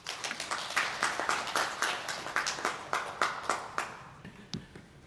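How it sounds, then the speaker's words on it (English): A small audience claps after a presentation on strategic investment in immunogenicity mitigation, a modest, fairly close burst of hand claps that thins to a few last scattered claps. "Another round of applause for the great presentation"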